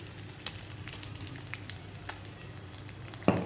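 Dals with curry leaves and red chilies frying in hot oil, a soft continuous sizzle with scattered crackles and a sharp pop near the end, no talk.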